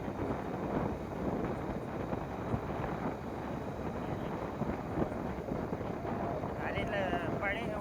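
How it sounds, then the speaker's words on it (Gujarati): Cool wind roars steadily across the microphone while riding a motorbike through a village after morning rain, a dense, continuous buffeting rush that masks most other sound. "કોને ઠંડો ઠંડો પવન પણ આવી રહ્યો છે"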